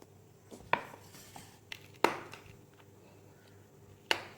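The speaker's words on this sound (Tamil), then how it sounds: "சில്லியை 2ஆக உடச்சி வச்சுருங்க" Dried chillies for a plain biryani are snapped in half by hand, giving three sharp, separate cracks spaced a second or more apart against a quiet room.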